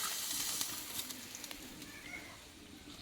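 Tilapia fish simmering in a pan after water is poured in gives a soft, steady bubbling hiss with light scattered pops, faint and even throughout with no talking.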